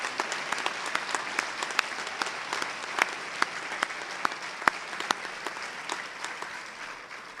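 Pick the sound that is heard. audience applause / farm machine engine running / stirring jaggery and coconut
audience applause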